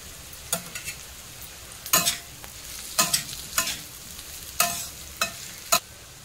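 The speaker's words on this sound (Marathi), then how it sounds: "चिरून घेतलेले बटाटे टाकूया। हे बघा चांगले परतून घ्यायचे असे।" Chopped potatoes being sautéed in a pan for a vegetable dish, with sharp scraping stir strokes against the pan at an irregular rhythm over a soft background sizzle, close and fairly loud, no talking.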